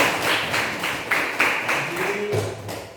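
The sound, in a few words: class applause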